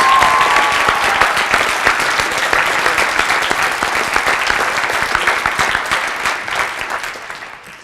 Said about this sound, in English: One more round of applause for our third-year orchestra letters.